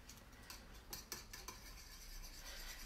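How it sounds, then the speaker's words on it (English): Eggs being mixed with small pieces of cheese in a bowl, heard as faint, soft scraping and light utensil clicks against the dish over a steady low background hiss. "I'm going to mix that in"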